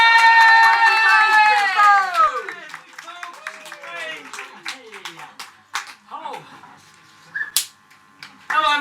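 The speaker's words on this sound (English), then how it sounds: "Put your hands together, start whipping and cheering." Comedy-club crowd clapping and cheering for the next act, loud at first with whoops and whistles, then thinning into scattered claps and voices.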